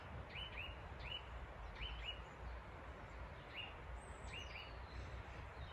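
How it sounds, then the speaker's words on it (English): A bird chirping outdoors in a snowy garden, a series of short repeated two-note tweets in loose pairs over several seconds, fairly faint against a steady broadband wind-like background hiss, with no talking. "Can you hear that bird?"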